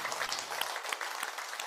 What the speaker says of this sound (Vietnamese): Vỗ tay lên cụ Chí Hòa ơi